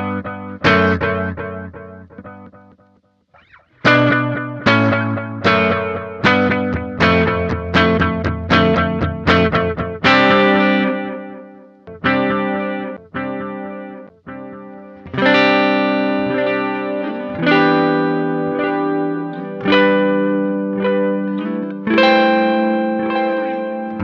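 Electric guitar through a Sonicake Levitate pedal with delay, strummed chords and picked notes ringing out with repeating echoes and trailing reverb, building a layered sustained wash across the passage.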